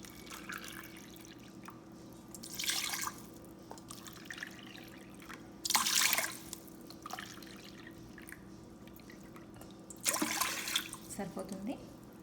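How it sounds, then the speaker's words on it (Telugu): Water for an Instant Pot chicken dum biryani is poured in three short splashing bursts, separated by quiet pauses, with a low steady hum underneath. "So first 3 to 4 cups of water తీసుకోండి."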